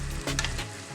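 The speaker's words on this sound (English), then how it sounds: "mix it up together, and let it continue to saute. So once it starts to simmer, your sauce is going to thicken up a little bit." Shrimp sauce for stuffed sweet plantains sautés in a pan, a brief, close, dense sizzle with a soft stirring scrape.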